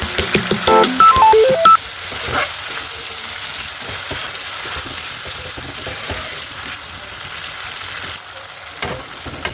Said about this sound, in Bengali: এখন একসাথে নুনটাকে মশলার আলুটাকে ভালো করে ভেজে নেব